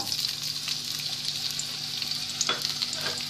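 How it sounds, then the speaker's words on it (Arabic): Peppers fry in hot oil in a pan with a steady, close hiss and crackle, the sizzle loud and unbroken, with a brief stirring scrape near the end. "ناخذ مقله غادي نسخنوها مزيان ونديرو فيها الزيت نزيدو عليه فلفله"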